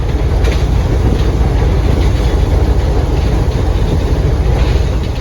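Short underground ride on the US Capitol subway train to the Russell building, a steady loud low rumble with rail clatter running throughout, no talking.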